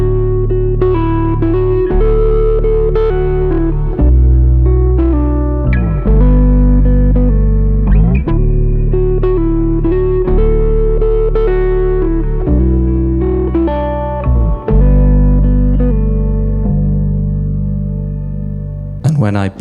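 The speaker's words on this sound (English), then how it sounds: "The electric pickup then, which is going through a whole different set of pedals," PRS Hollowbody II electric guitar on its magnetic pickup, run through a pedalboard of distortion, echo, chorus and reverb, playing a continuous sequence of loud, processed chords and notes that ring close and full without any talk.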